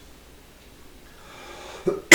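A person suddenly coughs: after near-silence with faint room hiss, a short cough bursts out near the end, followed right away by a sharper, louder second one that is cut off.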